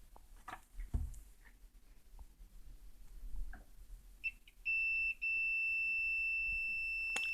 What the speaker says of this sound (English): This is the output, because there is a buzzing sound.